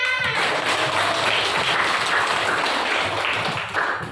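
Schoolchildren in a classroom clap their hands together as a group, a dense, steady patter of claps that fills the room from start to finish, with a brief voice at the very beginning.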